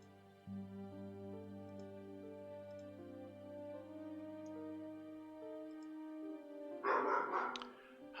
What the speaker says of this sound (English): Hush, Duchess, loud dog.